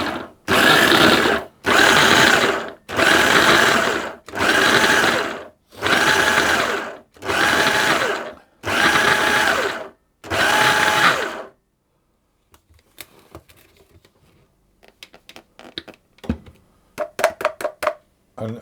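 Food processor cutting butter into flour for sultana scones, eight short, loud whirring pulses at an even rhythm, followed by quieter clatter and clinking, with no talking.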